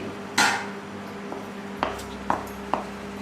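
Kaju katli mixture is scraped into a greased steel plate, with a few sharp metallic clinks and taps of a utensil on steel over a low background hum.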